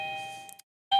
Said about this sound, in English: Their doorbell never goes off, apparently, except for now.